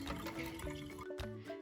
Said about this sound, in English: sieve your mixture one last time into your jug